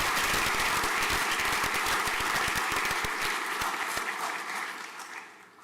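A hall audience claps at the St Paul's Collegiate School prizegiving, a full round of dense applause for a prize recipient that holds steady and then tapers off toward the end.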